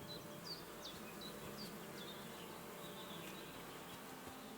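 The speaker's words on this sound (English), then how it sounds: "It sounds like bees" Bees buzz faintly in a steady, low drone in Kingdom Come Deliverance 2, with a few short high chirps scattered over it and no one talking.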